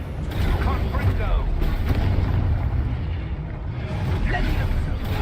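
Confringo fire spell bursting in Hogwarts Legacy, a steady run of loud rumbling, booming blasts with crackling debris, close and continuous over a low roar.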